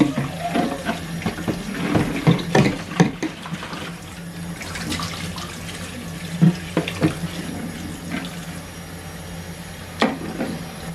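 Tap water runs into a 2.2-litre grey plastic water bottle with a handle, a steady close stream with a few bursts and shifts as it fills, alone without talk.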